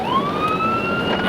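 An ambulance siren outside wails with a rising then steady tone, clearly audible and fairly loud, with no talking during it.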